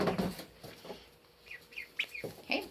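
Ducklings peep in a brooder bedded with pine pellets, giving a scatter of short, high chirps at close range, some rising in quick bursts, with soft shuffling and rustling beneath.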